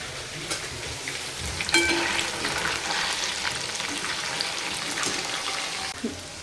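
Chicken chili frying in a pan at home: a continuous, close sizzle of hot oil with a few brief clatters of stirring, and no talk.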